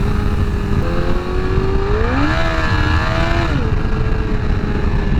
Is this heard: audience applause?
no